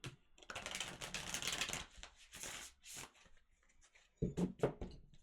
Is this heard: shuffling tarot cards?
yes